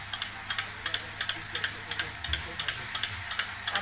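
Green garlic frying in a pan, a steady low sizzle under a quick, regular series of light scraping clicks as it is stirred.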